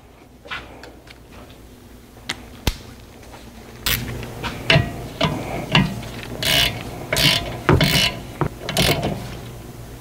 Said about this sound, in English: So the first caliper bolt is torqued. Now we're gonna torque the second one.